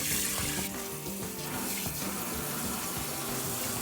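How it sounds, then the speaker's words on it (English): Cooked jasmine rice being rinsed under a running kitchen tap, a steady, close rush of water splashing into a pot or sink throughout, with no talking. "I'm now rinsing that excess starch that boiled off the rice"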